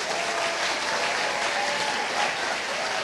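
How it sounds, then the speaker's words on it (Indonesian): Steady, dense audience applause fills the whole stretch at an Indonesian talk show as a guest is welcomed, with no voices rising above it. "Kita undang yang pertama dan berikan tepuk tangan yang meriah untuk Fikrang."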